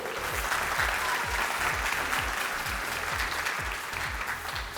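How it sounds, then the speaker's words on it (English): Sustained applause from the audience at a scholarship pageant competition, a dense, steady wash of many hands clapping at full strength throughout with a faint crowd murmur beneath. "let's have a round of applause for you."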